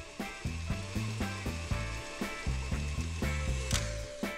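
An electric mixer beats butter, sugar and grated marzipan into a smooth base, whirring close by with a rhythmic, pulsing churn throughout.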